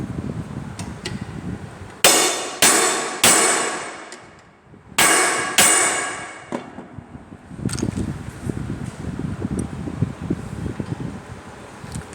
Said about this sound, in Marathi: हा भरीव पंच मारायचा आहे.